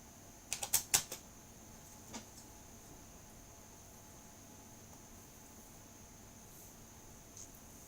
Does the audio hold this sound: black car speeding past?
no